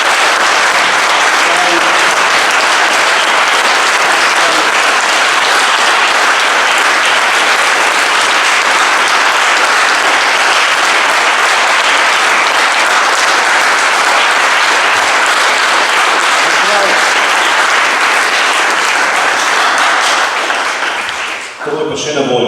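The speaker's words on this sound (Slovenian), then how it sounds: "Jaz mislim, da si zaslužiš en aplavz." Loud, sustained applause from an audience at a talk with a guest, dense clapping that carries evenly throughout and cuts off sharply near the end.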